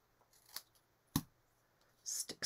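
Scissors snipping glue-covered paper up close, a few quiet, sharp cuts spaced apart with soft handling noise in between.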